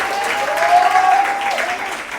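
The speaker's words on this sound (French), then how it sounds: "Si vous êtes là, acclamez très fort le Seigneur Jésus" Wedding congregation clapping and cheering together in a church celebration, a dense, steady wash of applause with a few raised voices over it, fairly loud throughout.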